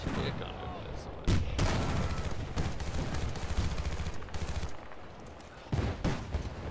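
Gunfire in the video game Battlefield Bad Company 2, with loud bursts and sharp blasts running almost nonstop, joined by several heavier impacts, all under a voice speaking.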